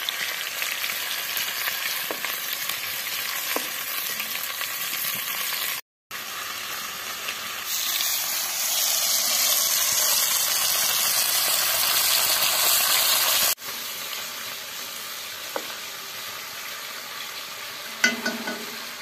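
Chopped vegetables frying in a hot pan for Arabic-style cooking, a steady loud sizzle with brief breaks as the pieces are stirred and turned over, no voices.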